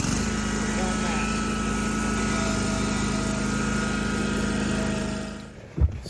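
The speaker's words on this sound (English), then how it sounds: "I'm gonna go get the blower." A small two-stroke leaf blower engine runs at a steady, loud drone close by for about five seconds, then cuts out abruptly, leaving a brief thump and quiet.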